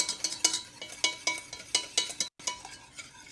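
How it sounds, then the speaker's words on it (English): Caramel sauce for a caramel macchiato being stirred to cool, with vanilla added, giving a quick series of soft clinking and scraping strokes from a utensil against a pot, close and steady, with a brief pause near the end. "I'm just going to stir it"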